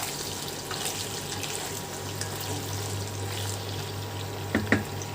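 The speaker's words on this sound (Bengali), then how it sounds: "আলুগুলোকে হালকা একটু তেলে নাড়িয়ে নেব।" Cumin potatoes frying in a little oil in a pan, giving a steady, even sizzle that fills the whole stretch, with a couple of faint clinks near the end.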